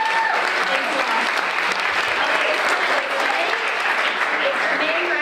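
Audience applause fills a small business of the year award ceremony, steady dense clapping sustained throughout at close range with no pauses.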